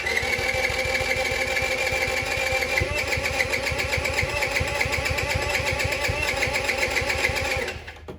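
A Venom X15 minibike's small engine runs loud and steady at close range, its rapid firing pulses continuing throughout before cutting off abruptly near the end.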